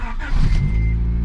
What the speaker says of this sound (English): All right, so this is a cold start.